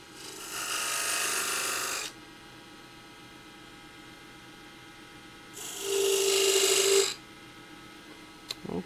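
A small parting tool marking a cove and fillet on a wood spindle turning on a lathe, heard as two separate bursts of scraping and rasping cut against a steady low motor hum.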